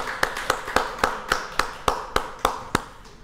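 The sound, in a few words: congregation applauding during church service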